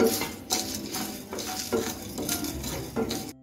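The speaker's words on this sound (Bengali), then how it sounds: "এখানে সব কিছু দিয়ে দিচ্ছি, দিয়ে একটু ভেজে নিচ্ছি" Metal utensils clatter and scrape against a pan in repeated strokes as whole spices fry, with a light sizzle underneath, close and fairly loud.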